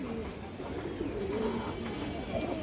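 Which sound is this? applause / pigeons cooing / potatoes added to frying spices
pigeons cooing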